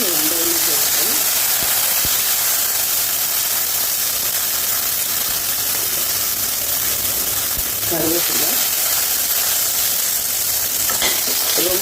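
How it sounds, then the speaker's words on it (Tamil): Onions and soaked fenugreek seeds sautéing in hot oil, a loud continuous sizzle with occasional stirring scrapes throughout, close by. "ஊற வச்ச வெந்தயத்தை போட்டு நம்ம வதக்கி கொடுத்துருவோம்"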